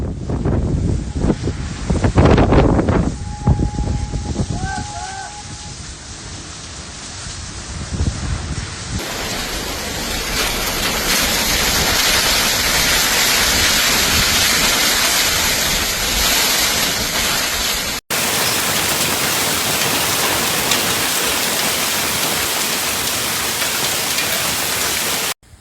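A microburst storm in Tempe, Arizona roars with heavy rain and strong gusting wind, loud continuous wind buffeting the microphone and a dense hiss of downpour throughout.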